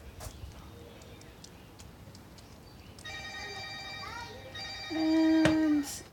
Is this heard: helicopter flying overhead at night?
no